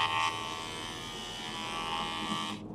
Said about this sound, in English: The idea of it was an electric tooth flosser, similar to an electric toothbrush.